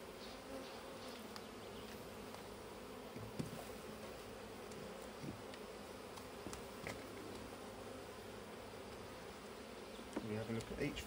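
Honeybees hum during a UK beehive inspection as frames are lifted, a faint, continuous buzzing with occasional light knocks and handling sounds, no clear speech.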